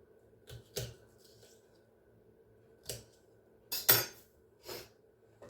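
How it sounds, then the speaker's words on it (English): A few sharp knife strikes on a cutting board chopping a red bell pepper, spaced irregularly, with one cluster of two or three quicker chops near the end; close and fairly quiet. "So I'm chopping up this red bell pepper."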